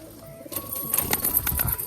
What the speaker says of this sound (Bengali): পায়রাটা একবার তোমাদেরকে আজকে ছেড়ে দেখাই বাইরে দেখো